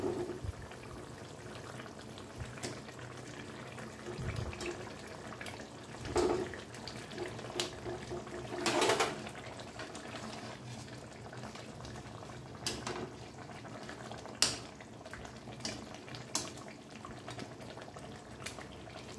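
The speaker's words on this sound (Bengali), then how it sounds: "দেখুন বন্ধুরা, ঝোলটা ফুটে উঠেছে, এবার মাছগুলো আমি ছেড়ে দিচ্ছি।" Pabda fish curry with coriander leaves and green chilli bubbles softly in a pan as fish pieces are slipped in, a faint continuous simmer with a few brief splashes and clinks.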